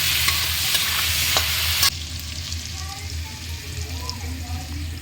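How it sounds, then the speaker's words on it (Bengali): Potato pieces with salt and turmeric fry in hot oil with a dense, steady sizzle, loud at first and then a little softer, with faint stirring. "আলুটাও এরকম করে লাল লাল করে ভেজে নেবে একটু"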